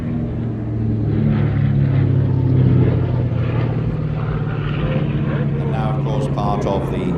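B-25 bomber of the Royal Netherlands Air Force historic flight at the Scottish International Airshow, a steady, loud, low piston-engine drone that holds throughout, mixed with crowd and background sounds.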